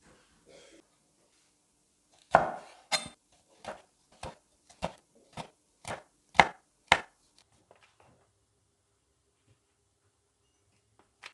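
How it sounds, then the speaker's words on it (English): A knife finely slicing two green chilies on a board, about ten crisp, evenly paced chops in a quiet room, close and clear with silence before and after. "Wash and finely slice 2 green chilies."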